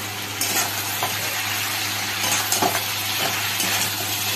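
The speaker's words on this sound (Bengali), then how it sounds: "আমি এবারে এই মাছের মাথা ভাজাগুলো দিয়ে এতে করবো" Fried fish heads being stirred into an onion and spice masala in a pan, with a steady sizzle and repeated scraping stir strokes, close and continuous with no talking.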